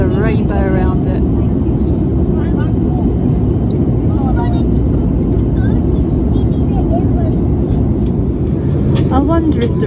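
Air India Boeing Dreamliner cabin in flight: a steady, loud broadband roar of engines and airflow fills the cabin throughout, with faint chatter and small clicks in the background.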